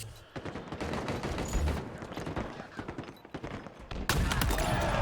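Rapid gunfire bursts from a Halo esports match, sniper rifle among the weapons, crackle densely over game noise and faint commentary, ending in a sudden loud burst.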